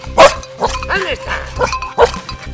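A dachshund bitch barks and yelps in short, loud bursts while reaching a wild boar hide at the end of a blood-trail search, with a handler's voice mixed in.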